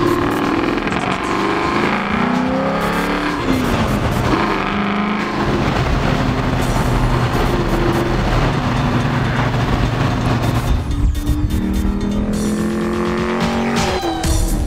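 Black Holden with an LS1 V8 breathing through a dual 3.5-inch stainless steel exhaust, a loud, steady deep engine rumble with rising revs and gear changes, close and continuous without talk.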